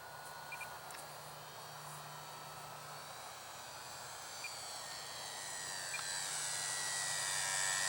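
A small E-flite UMX Sbach 342 3D RC plane at full throttle after dark, a steady high electric whine with a thin motor hum underneath that grows gradually louder toward the end, heard alone.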